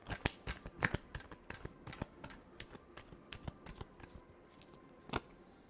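Tarot cards are shuffled close by, a quiet run of crisp riffling snaps and flicks with one sharper slap near the end and no voices.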